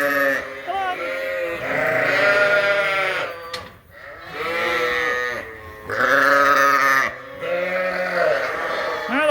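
Several sheep bleat loudly and repeatedly at night on a farm, long wavering calls overlapping one another from close by, with brief pauses between bursts.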